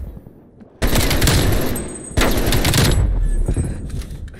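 Two long bursts of AK rifle automatic fire ring out loud and close in Call of Duty: Cold War, the second burst starting soon after the first with only a short break between them.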